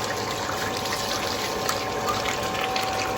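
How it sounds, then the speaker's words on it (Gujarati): Water gushes steadily out of a motor pump, a loud continuous rush with no pauses. "તો પાણી આમ જાય મોટરમાંથી"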